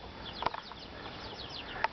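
Faint, high-pitched peeping of small chicks, a couple of brief chirps standing out over quiet background hiss.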